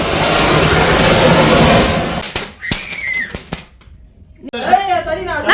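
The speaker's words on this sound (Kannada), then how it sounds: "ಪಾಮ್ ಪಟಾಕಿ ಅಂತೇಳಿ ಹೊಡಿತಾ ಇದೆ" Deepavali firecrackers burst in a handful of sharp, loud cracks after a stretch of hissing noise, followed by a voice at the end.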